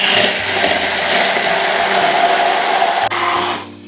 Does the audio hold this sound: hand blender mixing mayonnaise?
yes